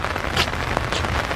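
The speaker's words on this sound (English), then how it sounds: "starting to rain a little harder now" Rain falls on a wet, foggy winter morning in a park beside a golf course parking lot, a steady close hiss of drops with a few louder spatters, no voices.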